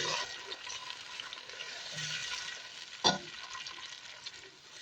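Blended pepper mix frying in hot palm oil in a pot, a steady close sizzle throughout with a sharp spatter or stirring clack near the middle, no talking.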